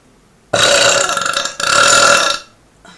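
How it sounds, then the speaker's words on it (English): A person lets out two long, loud burps back to back, the first starting abruptly and the second following after a brief break, with no talking around them. "And then you're gonna have bigger burps because it's more air that you kept."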